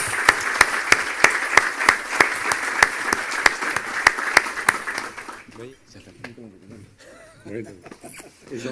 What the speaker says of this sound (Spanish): un fuerte aplauso para él, para animar a su conferencia